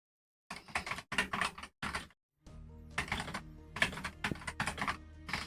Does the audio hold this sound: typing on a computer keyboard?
yes